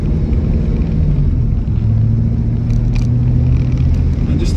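A 1960 Cadillac Coupe de Ville's big engine rumbles steadily at low revs while driving along, a continuous close, loud drone with faint road noise and no speech.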